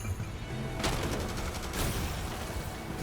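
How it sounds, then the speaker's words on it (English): A sniper rifle shot in a robot-battle video game cracks out sharply, one loud report followed by a second blast a second later, amid ongoing rumbling combat noise, no talk. "And that sniper shot took him down."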